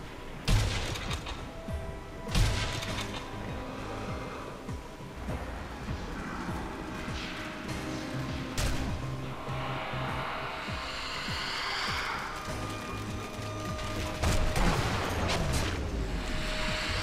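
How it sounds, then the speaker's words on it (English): Gunfire from the video game Sniper Elite: Nazi Zombie Army 2, with several sharp, loud shots spread irregularly through the passage over a busy background of game ambience and rumble. "I just shot him through the wood."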